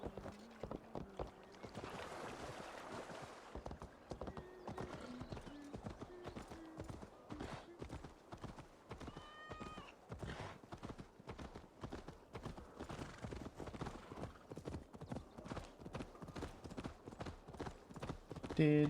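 A horse gallops in Assassin's Creed Valhalla, its hooves clip-clopping in a fast, steady rhythm, fairly close, with a brief whinny and a light wash of wind and water in the background, and no talk over it.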